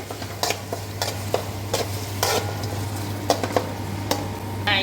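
Shallots, ginger and garlic sizzle in a pan for mutton samosa filling, with a steady frying hiss broken by several sharp scrapes and clinks of a spoon stirring against the pan, close up and without speech.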